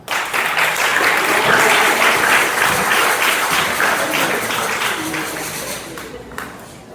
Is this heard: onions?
no